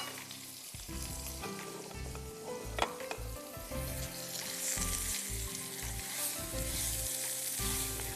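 Boiled potato wedges roast with mixed herbs, salt and black pepper in a pan, giving a steady soft sizzle broken by repeated scraping stirs and a few light clinks.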